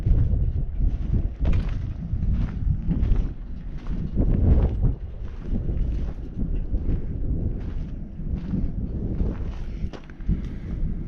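Gusty wind outdoors at Stove Pipe Wells on a warm December day buffets the microphone in loud, uneven rumbling waves, with faint footsteps here and there.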